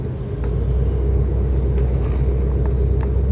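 A car engine at a car meet, a steady deep low rumble that sits close and loud throughout, with faint higher clicks and noises of the surroundings above it.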